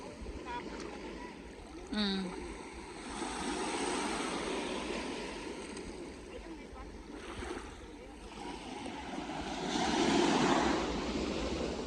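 Soft, distant wash of ocean waves breaking on a beach at high tide, a continuous low surge swelling and easing over twelve seconds with faint voices now and then.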